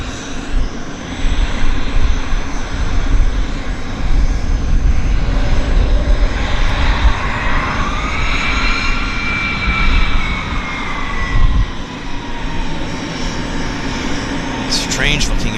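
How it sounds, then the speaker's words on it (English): An Air North Boeing 737-800 jet airliner at Vancouver Airport, its engines giving a loud, sustained roar with a rising and falling whine in the middle, while people talk over it. "It's kind of a wicked looking airplane. And look at the size of the engine."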